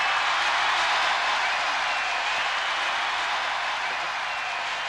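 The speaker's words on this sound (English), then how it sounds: "And listen to the crowd roar now," A large stadium crowd at a 1979 Jeux Sans Frontières event in Bonn, West Germany, roars for the home team, a dense, steady hiss of cheering and applause at moderate distance, unbroken across the moment.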